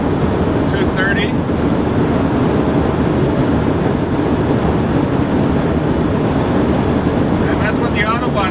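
A car cruising at very high speed on the Autobahn gives a steady, loud broadband roar of wind and road noise that runs unbroken throughout, with brief faint higher whines near the start and end.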